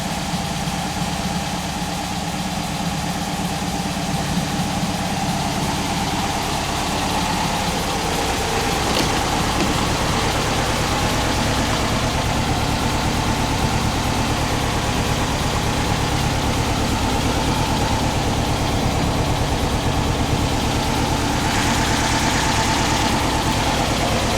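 A warmed-up car engine idles steadily after a cold start, a continuous low rumble that stays even and close throughout with no talk.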